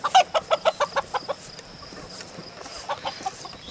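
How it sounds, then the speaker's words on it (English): Chickens clucking and calling in a rapid series of loud, close bursts at first, then thinning into scattered, quieter clucks. "They're crazy birds."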